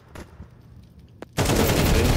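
Gunfire in the video game Valorant: a couple of faint isolated shots, then a sudden loud sustained burst of rapid automatic fire in the last second.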